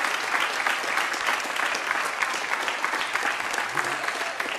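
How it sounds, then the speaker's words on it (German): Studio audience applause on a German Schlager music TV show, a steady dense patter of many hands clapping at close range, continuous and even for the whole stretch. "Das ist euer Applaus"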